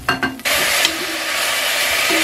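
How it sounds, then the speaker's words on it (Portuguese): Fatty pork pieces frying in a pan, a loud steady sizzle that surges in after a few brief clatters at the start and holds evenly, close up. "Fritou um pouquinho a carne, eu vou tirar para colocar o restante"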